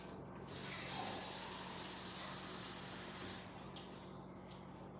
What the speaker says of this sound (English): So let me put water in this.